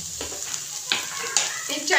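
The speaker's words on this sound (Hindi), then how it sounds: "लहसुन डाल के मैंने अच्छे से भून लिया है" Garlic with turmeric and red chili powder frying in oil for a yogurt masala eggplant dish, giving a steady close sizzle broken by a few scraping stirs of a spoon in the pan.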